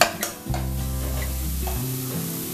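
Ground turmeric, Kashmiri chili and cumin frying in a pan, with a steady sizzle and stirring scrapes, fairly loud and close, no talking.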